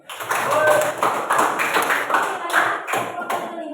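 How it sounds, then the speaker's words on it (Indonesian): A school class clapping together, a lively burst of many hands at close range that rises quickly, holds, then thins out with a few scattered claps at the end. "Tepuk tangan dulu."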